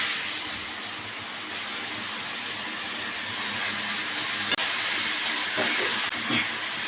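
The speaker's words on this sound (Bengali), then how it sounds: "এবার আমি গ্রেট করা পেঁপে রেখেছি ধুয়ে পরিষ্কার করে এটা আমি দিয়ে দেবো" Grated papaya, washed clean, drops into hot oil in a pan for a papaya ghonto with hilsa head, giving a steady broad sizzle that holds throughout, with a few faint clinks near the end and no talk.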